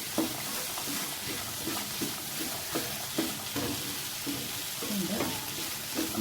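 Green peas are stirred into an egg mixture frying in a pan, giving a steady sizzle with repeated scraping strokes of the spoon, close and moderately loud.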